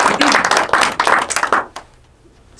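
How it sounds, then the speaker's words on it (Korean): Studio audience clapping at a Geumcheon-gu artist's workshop event, a dense burst of applause for about a second and a half that cuts off abruptly, leaving near silence. "박수 한번 주시고."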